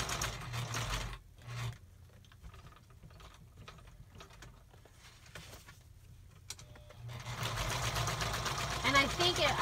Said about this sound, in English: I'm just going to go ahead and sew it on. So just sewing it on.